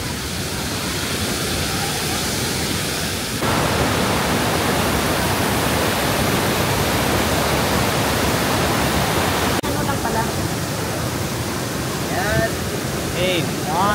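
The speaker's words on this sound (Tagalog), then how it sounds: "ang lakas ng falls" A powerful waterfall in the Cebu–Dumaguete area roars as a loud, constant wash of rushing water, with faint voices breaking through near the end.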